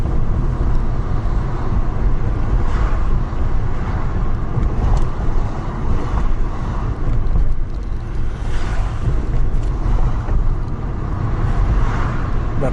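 Steady, loud road noise from a Mercedes E55 AMG cruising in traffic, with a continuous low engine hum and rolling tyre roar throughout.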